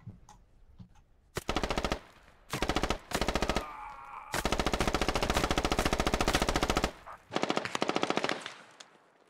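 Bursts of automatic rifle fire in the Squad military shooter, loud and close, coming in several long sustained strings with short gaps between them, no voices.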